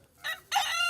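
A rooster crows in the morning among a flock of chickens, a short two-part call that is fairly clear and close.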